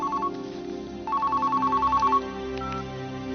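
A telephone rings in short electronic bursts, a brief trill followed by a longer steady warble, heard clearly over a low musical background with no talking.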